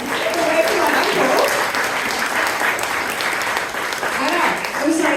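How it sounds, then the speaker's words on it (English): A theatre audience claps through a round of applause during a one-woman comedy show, steady and full, with some voices mixed in. "Can we give my uncle a round of applause?"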